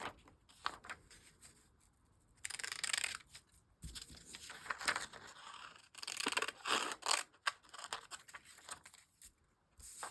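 Scissors snip and rustle through paper sewing pattern pieces for an empire waist top, with intermittent close cuts and crinkling in short bursts and pauses.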